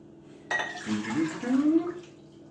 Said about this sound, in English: we're going to be taking 2 cups of lukewarm water. We're going to put that in a bowl.